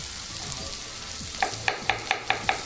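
A handful of onion sizzles and fries steadily in a pan for spicy fried rice, a constant close hiss joined midway by a run of regular, crisp popping ticks.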